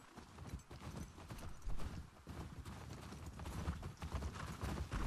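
Horse hooves clip-clop on the ground in the video game The Last of Us Part II, a steady run of close, crisp strikes continuing throughout at moderate loudness.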